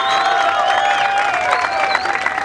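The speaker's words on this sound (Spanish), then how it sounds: "¡Un aplauso fuerte, pues, señores!" Audience applause mixed with cheering at a live comedy show, short and lively, with a prominent voice calling out above the crowd.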